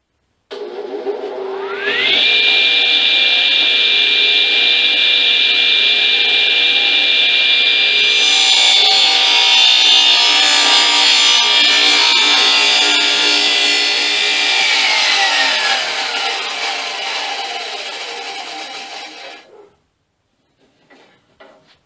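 A power saw cuts a wooden stick lengthwise to make a cane sword: the motor spins up, then a long, loud, steady whine with grinding through the wood lasts for about seventeen seconds before winding down to silence.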